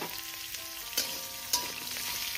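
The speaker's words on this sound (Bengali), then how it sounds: "আমি কিন্তু এগুলো কোনো রকমই বেশি ভাজবো না, হালকার উপরে ভাজবো" Potato and papaya pieces fry lightly in oil in a pan, giving a steady close sizzle with a couple of sharp clinks from stirring.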